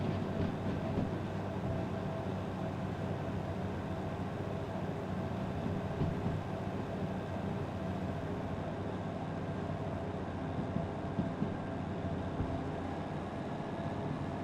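A DH4 diesel locomotive runs in the Derail Valley train simulator, giving a steady, droning engine rumble and rolling rail noise with a faint, constant whine, close and continuous throughout.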